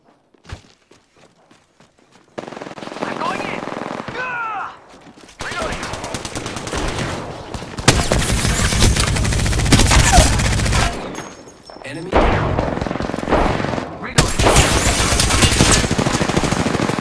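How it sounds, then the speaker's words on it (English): Gunfire in the Apex Legends video game, with bursts of rapid automatic shots and sustained fusillades separated by short pauses, loud and close, alongside movement sounds. "Getting shot at."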